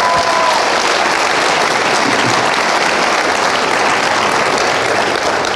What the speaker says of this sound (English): Let's give Irene one more round of applause